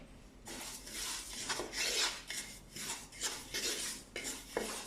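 White sesame seeds being lightly roasted in a pan for red kavuni rice laddu: a dry, rasping stir and scrape in repeated sweeps, fairly quiet and close, with no talk.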